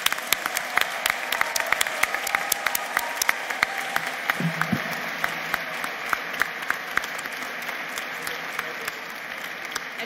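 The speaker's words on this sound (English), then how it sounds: "a round of applause for the recipients of our master degrees" An audience at a law school commencement applauds steadily for master's degree recipients, with many sharp individual claps over a soft crowd wash, fairly distant and even throughout.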